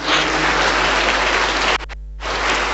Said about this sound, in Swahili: Tunaweza kumpigia Bwana makofi